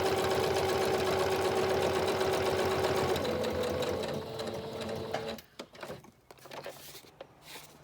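A home sewing machine runs steadily as it stitches fabric, a loud continuous motor whir for about five seconds before stopping, followed by quieter handling noises.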